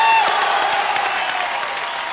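A studio audience applauding and cheering, a dense wash of clapping with scattered whoops that starts loud and gradually eases off over a couple of seconds.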